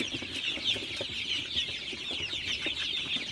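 A flock of Sonali hybrid chickens, 36 days old, clucking and chattering continuously at close range while drinking water, many overlapping calls with no talking.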